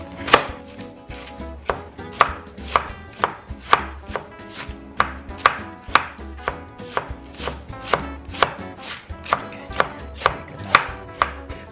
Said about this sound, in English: now we're gonna slice up the cabbage